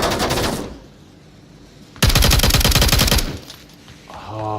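Rapid automatic gunfire in the VR shooter Onward, with two loud bursts of fast repeated shots separated by a quieter gap, followed by a short tonal game sound at the end.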